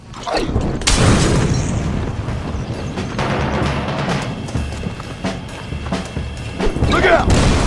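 Fire and explosion in the 2010 Xbox 360 game Red Dead Redemption: a heavy boom followed by sustained rumbling fire and crashing debris, with a second loud burst near the end and voices shouting over it.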